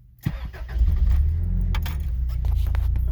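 Toyota van, a Townace-type with a digital cluster, switched on with a key: a jangle of keys at the ignition, then an engine catches and settles into a steady low idle, close by, with no talk.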